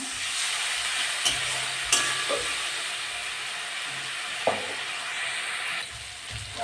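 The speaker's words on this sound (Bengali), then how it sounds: "কষে নেব মশলাটা" Spice masala frying in oil for papaya dhoka gives a steady, fairly loud sizzle and hiss, broken by a few sharp scrapes and knocks of the spoon against the pan.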